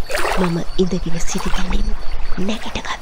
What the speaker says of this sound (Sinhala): ඒ ලිඳේ ජලය කැළතෙන හඬක්